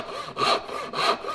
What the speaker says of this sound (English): when it comes time to cutting that shoulder, you want a saw that will allow you to come in